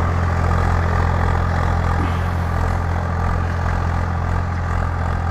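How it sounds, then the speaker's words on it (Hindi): Swaraj 744 FE tractor engine pulling a cultivator through a field, a steady, loud, continuous diesel drone with a deep low hum that holds even under load throughout. "ट्रैक्टर भी कोई दब नहीं रहा, आरपीएम नहीं तोड़ रहा, काफ़ी बढ़िया तरीके से काम कर रहा है।"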